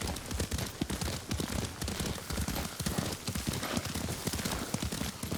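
Horse hooves clip-clop at a steady riding gait in a video game set among samurai and Mongols, a rhythmic, fairly close patter of hoofbeats with no talk.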